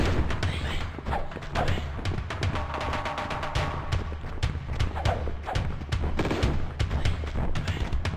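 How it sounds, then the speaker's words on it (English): Rapid bursts of gunfire crack through a Tomb Raider 2 Golden Mask Remastered game scene, irregular shots and thuds scattered across the clip at a moderate level with no talking. "Who is shooting me?"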